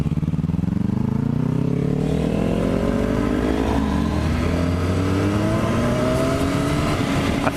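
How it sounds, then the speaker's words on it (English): A Kawasaki Ninja 400 motorcycle fitted with a new aftermarket exhaust, heard riding with rising and falling engine tones as it accelerates through gears, loud and continuous under heavy wind noise. "I thought I'd be able to hear your pipe a lot more behind you"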